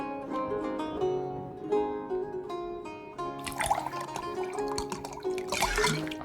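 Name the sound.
pouring wine in the video game Card Shark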